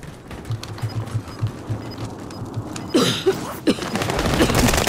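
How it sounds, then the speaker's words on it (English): Call of Duty: Warzone gunfire, with scattered shots and bursts cracking over a steady low rumble, growing louder and denser in the final seconds. "Where is this guy shooting me from?"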